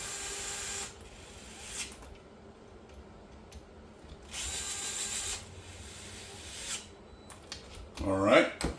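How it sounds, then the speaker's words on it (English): A DeWalt cordless driver whirs in a few short bursts, quiet and close, with pauses between runs and a brief rattle near the end. "I love these DeWalt drivers."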